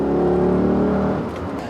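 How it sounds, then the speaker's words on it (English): V8 ute accelerating up an on-ramp in third gear, its engine droning loud and close with a steady rising note that eases slightly toward the end. "This is where you can use a bit of V8 power to merge on your own terms."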